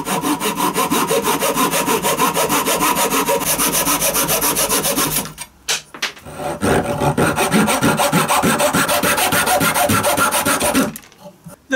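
A hand saw cuts through wood to rough out a violin scroll, a steady rasping back-and-forth stroke that runs loud and close, stops briefly midway, then resumes with the same rhythm.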